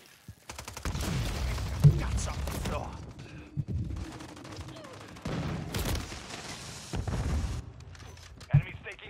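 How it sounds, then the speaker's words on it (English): Gunfire in Call of Duty: Modern Warfare 3, with scattered shots and bursts of a firefight over about nine seconds amid game noise, some louder cracks standing out. "Taking effective fire."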